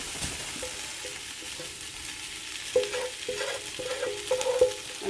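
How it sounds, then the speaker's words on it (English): Vegetables go into a big pot for an Irish beef stew and are stirred. A steady sizzle of frying runs throughout, with scraping stir strokes and clinks toward the end and no talk. "now I'm going to take my veggies, and we're going to put those into a big pot"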